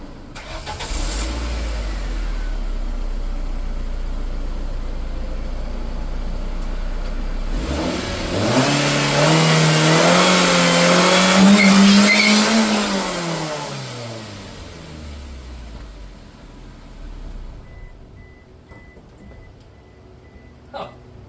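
A Ford ZX2 car idles low, then revs up into a one-wheel-peel burnout, the engine note rising and holding high before falling away, loud and nearby, followed by quiet.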